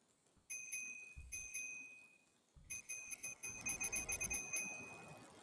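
Small bicycle bell in a dark horror video game, rung in quick bright bursts: two short rings, a pause, then a longer run of rapid repeated dings over low rumbling footsteps or rolling noise.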